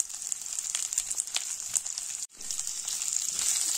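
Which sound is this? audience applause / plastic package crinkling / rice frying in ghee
rice frying in ghee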